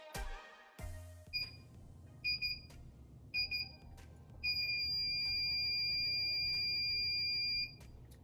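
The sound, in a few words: sublimation mug press beeping near end of timer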